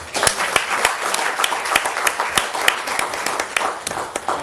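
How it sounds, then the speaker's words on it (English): Audience at a youth dialogue event on AI giving a round of applause, a steady patter of many hands clapping close by with a faint voice underneath. "A round of applause, please."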